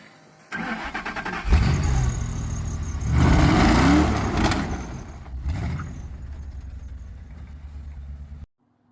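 Drift car engine starting and running, catching with a loud rumble, then rising revs and a swelling roar that settles back to a rough idle before cutting off abruptly near the end.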